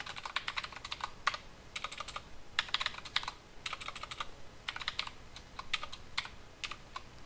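Code being typed on a computer keyboard, with bursts of quick, close key clicks separated by short pauses, fairly quiet against a faint background hiss.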